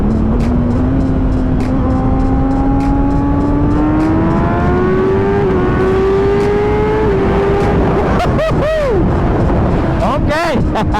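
A 2017 Kawasaki ZX10R with an ECU flash and quick shifter pulls hard through the gears, engine pitch climbing steadily with brief shift dips before a loud roaring pass near the end, heavy wind noise throughout.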